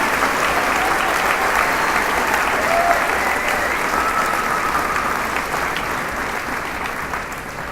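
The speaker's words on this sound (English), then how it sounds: "Please give another quick round of applause for Mr. Kelly and his band" Steady, dense applause from a large crowd at a high school commencement for the band and choir, holding loud for several seconds before slowly fading toward the end.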